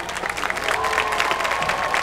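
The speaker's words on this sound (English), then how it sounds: "Give them a round of applause." Crowd applause at a high school band halftime event, dense continuous clapping with faint cheering mixed in.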